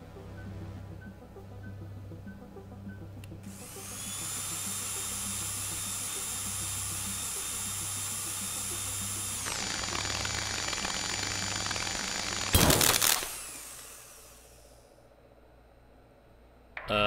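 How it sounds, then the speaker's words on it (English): A power drill bores into a surface in the video game Stories Untold, rising into a steady, loud whine that shifts pitch partway through, ends in a brief harsh burst, then stops, leaving a low background hum. "Proceed to drill the surface. Switch drill on."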